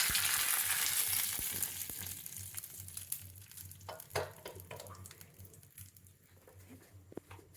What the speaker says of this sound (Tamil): கடுகு பொரிஞ்சோடனே கருவேப்பிலை போட்டு தாளிச்சு வச்சு